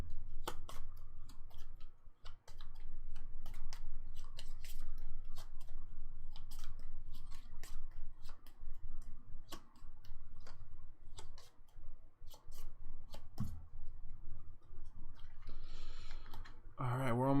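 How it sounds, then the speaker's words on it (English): Playing cards for a solo card game are shuffled at a table, a run of quiet clicks and soft riffling taps close to the listener, ending in a brief flutter. "we're going to shuffle this up."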